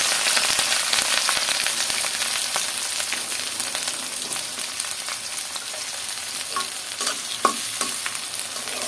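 Green chillies, garlic and onion fry in hot oil while being stirred, giving a steady close sizzle with frequent scraping and clicking of the spoon against the pan throughout.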